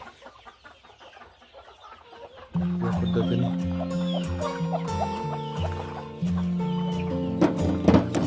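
Laying hens on a poultry farm cluck and squawk in irregular bursts over a busy, steady background, with a person speaking briefly.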